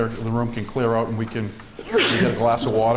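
A sudden sneeze bursts out in a city council meeting room, a sharp breathy blast cutting across someone talking close to the microphone.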